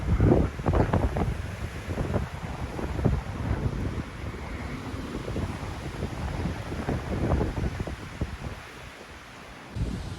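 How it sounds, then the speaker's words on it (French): Evening wind gusts buffet the microphone with low rumbling and rushing noise that rises and falls continuously, up close and fairly loud, with no speech. "ça caille, il y a du vent"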